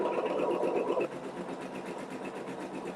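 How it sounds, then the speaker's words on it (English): Sewing machine running a placement stitch for a craft project, with a steady fast mechanical whir, louder for the first second and then softer, heard alone. "we're going to do our placement stitch"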